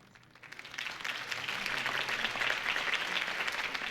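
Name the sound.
crowd applause from a video game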